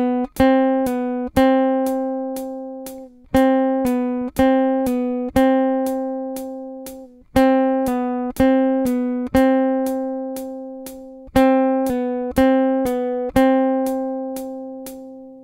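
A left-handed fingerstyle guitar fingerpicking exercise: clear, close plucked notes in a repeating picked pattern that cycles several times at an even tempo, played solo with no talking.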